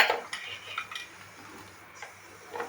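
Cut drumstick pieces are dropped and stirred into a pot of moong dal, giving light clinks and soft metallic taps against the vessel, irregular and close, with a faint low hum underneath.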